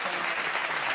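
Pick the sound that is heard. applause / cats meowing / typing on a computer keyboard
applause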